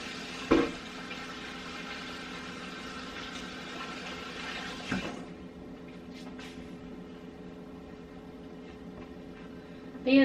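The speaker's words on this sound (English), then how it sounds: "It's sizzling a little bit." Ground beef sizzling in a warm cooking pot, a steady soft frying hiss with a few clinks of the pot and utensil, fairly quiet and continuous, with speech present.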